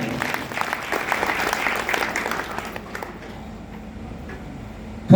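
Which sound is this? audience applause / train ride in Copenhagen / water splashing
audience applause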